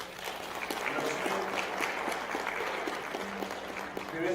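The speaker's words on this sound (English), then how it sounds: "Please give them a round of applause." Steady applause from a wedding ceremony crowd, dense clapping filling the room at an even level throughout.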